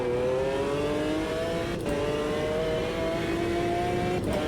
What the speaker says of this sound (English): Is it a V12? Yeah, it's a V12.